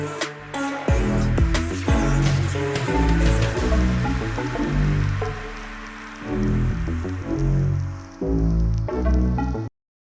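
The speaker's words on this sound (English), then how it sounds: "like a background, almost like a vinyl crackling kind of sound, like a static" A vinyl-style crackle and static atmosphere effect sits as a dense, steady hiss beneath a full music track during a breakdown, continuous and fairly loud until it cuts off abruptly at the end.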